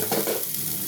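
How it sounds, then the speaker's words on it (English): Meat drops into hot olive oil in a pan, bursting into a loud, close, continuous sizzle for a brief moment. "Now I'm throwing in my meat."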